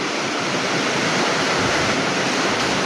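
Heavy rain falls continuously after weeks of wet weather, a dense broadband wash of steady patter that stays even and unbroken throughout with no voices.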